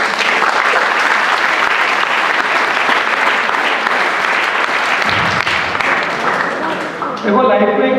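Loud, sustained applause from an audience at an inaugural address, continuous and dense for about seven seconds before thinning out, with a voice briefly heard near the end.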